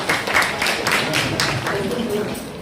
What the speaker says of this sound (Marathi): त्यांच्यासाठी जोरदार टाळ्या होऊन जाऊ.